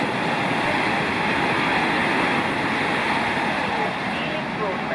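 A GWR Intercity Express Train, unit 800 308, passing through a station near Hanwell on a service to Weston-super-Mare, giving a loud, steady broadband rush and rumble that holds for the whole stretch, with faint voices in the background.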